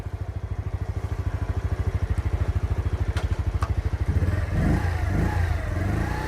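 A motorbike engine runs steadily with a fast regular throb while a beginner practices clutch control, then the revs rise and the pitch sweeps up and down for the last couple of seconds, loud and close with no talk.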